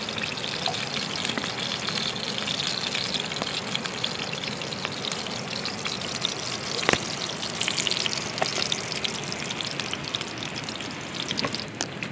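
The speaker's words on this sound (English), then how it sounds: "And these guys fried on the pan." Food sizzles in a pan over a campfire in the Canadian wilderness, a steady close crackle and hiss with occasional pops, constant for the whole stretch without talk.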